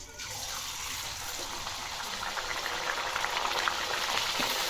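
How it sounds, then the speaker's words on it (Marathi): A continuous, loud bubbling sizzle of puris deep frying in hot oil, steady throughout and growing slightly more intense toward the end. "तेल गरम झालं, आता आपण पुरी तळून घेऊ"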